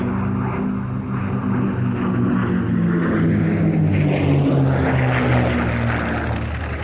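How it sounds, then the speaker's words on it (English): Two P-51 Mustangs make a pass at an airshow, their piston engines a loud, continuous propeller drone that swells and rises in pitch as they go by, with no talk. "running in, the two P-51 Mustangs"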